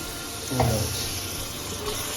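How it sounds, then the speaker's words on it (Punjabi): Water splashes into a pan of hot onion tadka and sizzles at close range, a steady frying hiss with a brief louder burst as it hits, continuing evenly without talk. "ਹੁਣ ਆਪਾਂ ਥੋੜਾ ਜਿਹਾ ਪਾਣੀ ਪਾ ਪਾਵਾਂਗੇ"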